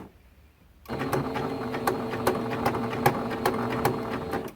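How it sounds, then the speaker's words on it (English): A sewing machine stitches along a T-shirt quilt seam, starting abruptly after a quiet moment and then running steadily up close with a rapid, even mechanical rattle and no talk. "and then we're just sewing right along this seam"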